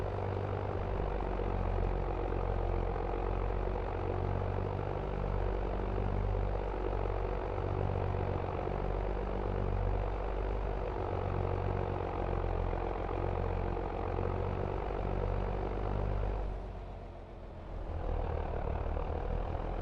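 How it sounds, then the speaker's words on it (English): Tractor engine in the Farming Simulator 25 video game, a steady loud droning rumble that holds throughout and dips briefly near the end, with no talk. "I like this kind of tractor noise."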